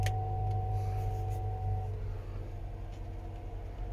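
A 2020 Cadillac XT4 AWD Sport running after a push-button start: a short burst at the outset gives way to a steady low engine hum with a faint tonal whine that fades partway through; no talking.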